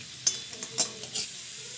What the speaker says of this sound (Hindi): और इसे भी अच्छी तरह से सौटे कर लें।